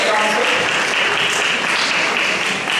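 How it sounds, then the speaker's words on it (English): Steady applause fills the room for quiz teams that gave the correct answer at a school math contest, dense and continuous with no pauses for the full length. "Give a huge round of applause to the teams who are giving correct answer"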